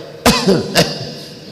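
Two or three sharp coughs in quick succession, close and fairly loud, then quiet.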